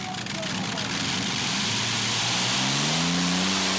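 The Green Fighter tractor-pulling tractor, running on methanol, roars at full power with a loud continuous engine drone that climbs in pitch toward the end.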